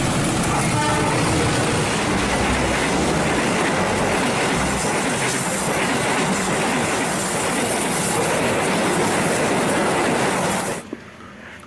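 A locomotive-hauled train rolls along the rails in a loud, steady, continuous rumble with clattering wheels, close by, lasting nearly the whole stretch before cutting off abruptly near the end.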